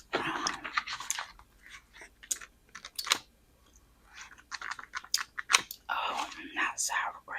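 Gum chewed close to the microphone: wet, smacking chews and soft clicks come in irregular bursts, with whispering in between.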